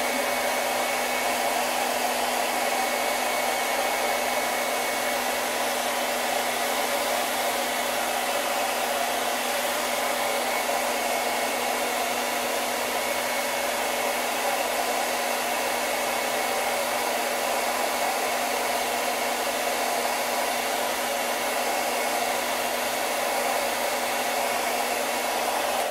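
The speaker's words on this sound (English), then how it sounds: "I'm going to blow dry it just a little bit." Hair dryer blowing on a painted canvas pennant, a steady unbroken whooshing hum with a constant motor whine running for the full length, close and alone without talk.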